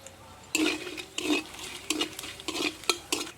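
Whole spices (garam masala, four dried red chillies, two bay leaves and cumin) sizzle in hot oil while a spatula stirs them in about seven distinct rhythmic scraping strokes, close and fairly loud.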